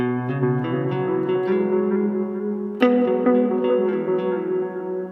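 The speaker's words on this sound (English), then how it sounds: "Let's go ahead and put on some analog delay. I got the Maleko Echo Dark Delay, set pretty long and slow." An electric guitar runs through a Maleko Echo Dark analog delay set long and slow, with sustained notes trailing in smeared, repeating echoes and a sharper pick attack near the middle, played alone without talk.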